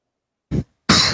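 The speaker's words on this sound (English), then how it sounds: "it was actually a cough" Two quick coughs, the first short and the second longer and harsher, close to the listener.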